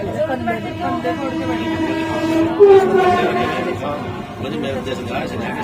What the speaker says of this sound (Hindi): अब ट्रेन ने थोड़ा स्पीड पकड़ना शुरू कर दिया।